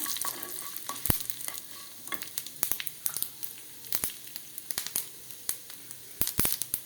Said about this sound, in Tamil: கடுகு வெடித்து உளுந்து சிவக்கட்டும்